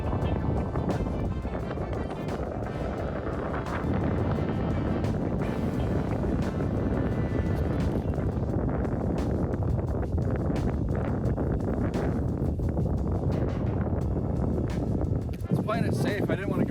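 Wind roars steadily across a hilltop disc golf course in Moundsville, West Virginia, a constant loud rumble of gusts buffeting the microphone, with someone talking over it.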